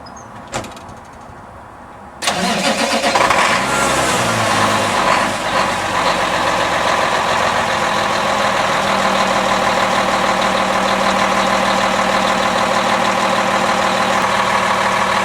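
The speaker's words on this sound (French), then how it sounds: "Bon, on va faire partir le camion, on va vérifier les lumières." A truck engine turns over and catches after about two seconds of quiet, then settles into a loud, steady idle that runs without a break through the rest of the clip, with no one speaking.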